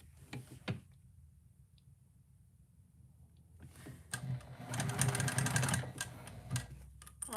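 Sewing machine stitching: after a few isolated clicks and a quiet pause, a steady run of rapid mechanical needle ticks and a motor hum rises for a couple of seconds, then stops.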